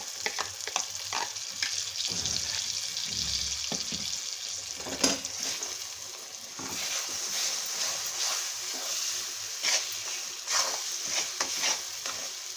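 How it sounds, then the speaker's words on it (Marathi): Ground moong dal and semolina roast in a pan while a spoon stirs them again and again, making a continuous dry sizzle with scraping strokes and soft knocks. "मुगाची डाळ पटकन खाली लागते, त्यामुळं सारखं हलवत राहायचंय।"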